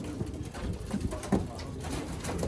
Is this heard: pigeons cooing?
yes